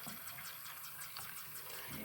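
Hot water pours over seeds, a faint, steady splashing gush of liquid that runs continuously with no voices.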